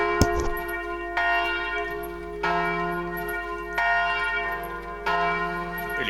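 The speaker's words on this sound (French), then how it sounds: "Vous entendez que les cloches se remettent à sonner en ville." Church bells ring out over a town, heard as a series of about five resonant strikes spaced roughly a second apart, each one leaving a long humming decay, with no talking.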